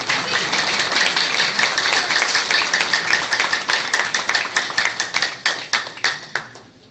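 An audience at an annual result day at the Government Institute for the Blind in Peshawar applauds. Dense, loud clapping thins out into sparse individual claps, and then it fades away.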